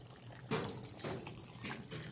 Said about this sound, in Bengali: এবারে এর মধ্যে পরিমাণ মতন জল দিয়ে দিতে হবে